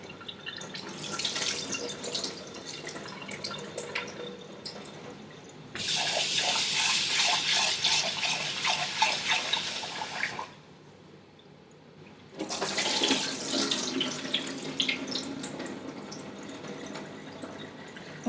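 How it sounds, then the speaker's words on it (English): Cold tap water running over rice as it is rinsed and washed, a steady close splashing rush that cuts off for a moment and then starts again, with no one talking. "Wash the rice with cold water, and then use your fingers to swirl the rice and water"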